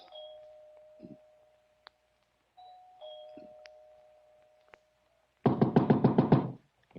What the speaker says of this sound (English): punched at the doorbell, and heard it ring inside